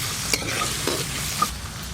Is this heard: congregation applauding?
no